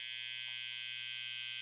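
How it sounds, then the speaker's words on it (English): A Suprent Pro cordless hair trimmer fitted with a T-Pop Psycho blade runs steadily, giving a constant high-pitched electric whine and buzz with no talk. "we're gonna go ahead and do the Suprent Pro trimmer"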